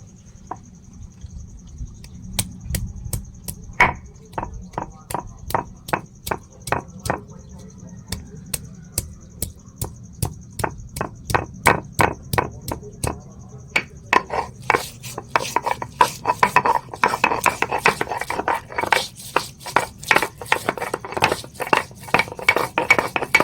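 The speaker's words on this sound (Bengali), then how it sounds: "মশলাগুলো বেটে নেব" Spices for a Bengali rohu fish curry with cauliflower and flat beans are ground by hand on a stone, giving steady rhythmic scraping and knocking strokes, close and moderately loud, that quicken and grow denser toward the end.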